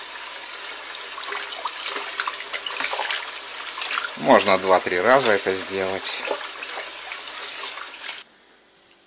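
Fish being rinsed in water in a basin, a continuous splashing and sloshing that stops abruptly near the end, while someone speaks Russian over it.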